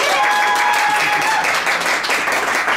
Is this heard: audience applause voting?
yes